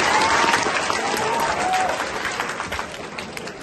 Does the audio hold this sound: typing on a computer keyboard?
no